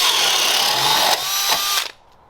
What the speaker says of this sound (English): That paddle bit's going to drill down itself